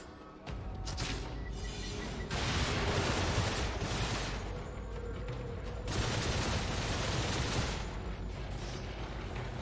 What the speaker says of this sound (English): I'm gonna try to hit the first one with the exploding round and then machine gun time.